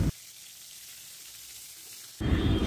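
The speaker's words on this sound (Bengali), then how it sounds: "আর এইদিকে বেগুন ভাজা পটল ভাজা হলেই হয়ে যাবে।" Eggplant and pointed gourd slices frying in oil, a soft steady sizzle that swells into a louder crackling burst near the end.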